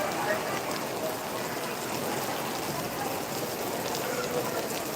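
Heavy rain pours down in a dense, constant hiss that barely changes from start to finish, during a thunderstorm in Kamati.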